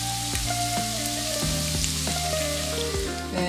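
Beaten eggs poured over soft potatoes and onions for a Spanish tortilla, seasoned with cayenne, garlic, salt and pepper, sizzling steadily in a hot pan, close and continuous with no talk.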